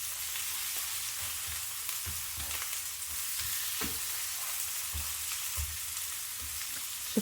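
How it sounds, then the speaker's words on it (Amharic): A vegan dish fries in a pan over medium heat until golden brown, a steady close sizzle with faint scraping stirs now and then and no voices. "ለ6 ደቂቃ ያህል በደንብ አርጌ አብስለዋለሁ እስከ ጎልደን ብራውን እስከሚሆንልኝ ድረስ በደንብ አድርገን መጥበስ።"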